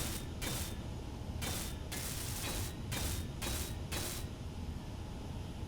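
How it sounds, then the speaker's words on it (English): Welding in the space game Space Engineers, a steady mechanical hiss under rapid ratcheting bursts that pulse on and off several times, loud and continuous with no talking. "let's get this all welded up."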